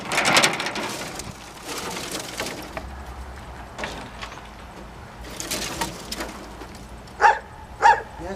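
A dog barks twice near the end, sharp and fairly close, after a stretch of rustling and shuffling noise.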